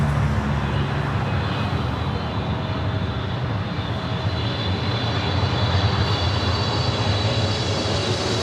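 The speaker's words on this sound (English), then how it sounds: "up next, British Airways, the 777-300ER, flight 283, coming in from London Heathrow" A British Airways Boeing 777-300ER on landing approach at Los Angeles International Airport, its jet engines giving a steady, loud, broadband roar throughout with no voices.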